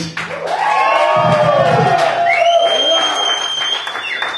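A crowd at a live metal show in Albuquerque cheering and applauding loudly, steady clapping with shouts and whoops over a sustained high feedback tone from the stage.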